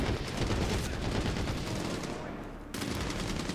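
Dense, loud gunfire in the shooter game Medal of Honor Warfighter: rapid automatic bursts roll together into a continuous barrage that cuts out sharply for a moment near the end, with no talk over it.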